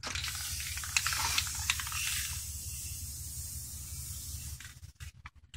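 Aerosol spray paint hissing from a can onto a DIY mirror project, a steady close spray of about four and a half seconds that tails off into short broken bursts near the end.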